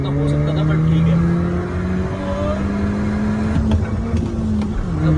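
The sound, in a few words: Skoda Laura vRS 1.8 TSI launching in a drag race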